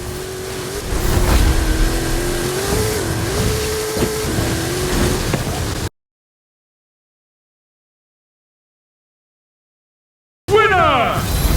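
Engines race in a driving video game, one of the cars a Nissan GT-R: loud revving with rising and falling engine tones, then a long silent gap and a short burst of swooping engine sound at the end.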